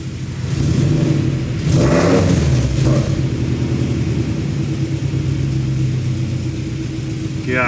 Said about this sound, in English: Gosh, that's so annoying, the exhaust leak.